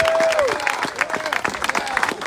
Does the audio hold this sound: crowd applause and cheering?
yes